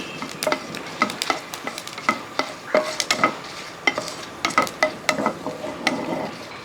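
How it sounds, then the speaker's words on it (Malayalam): Dried chillies and fenugreek fry in hot oil with a light sizzle while a spatula scrapes and clicks against the pan in quick, irregular strokes. "ഈ മുളക് ഉലുവായ എല്ലാം കൂടെ ഒന്ന് മൂപ്പിച്ചെടുക്കാം"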